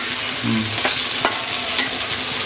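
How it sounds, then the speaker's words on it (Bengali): Spice paste frying with potatoes in a pan for tilapia curry, a steady sizzle with a few sharp stirring scrapes and clicks, close and clear. "মশলাটা একটু ভেজে নিই"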